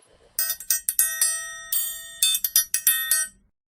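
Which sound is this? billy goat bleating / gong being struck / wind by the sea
gong being struck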